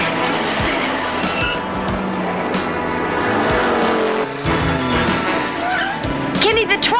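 A car pulls a handbrake skid turn in a 1982 film scene, with tires squealing and the engine roaring up close, sharp skid bursts cutting through the continuous motor noise while people talk over it.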